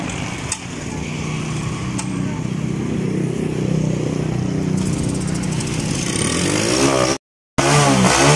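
A motorcycle engine runs in a mechanic shop with a steady, buzzing drone that climbs slightly as it revs toward the end, cuts out briefly, then resumes close and loud.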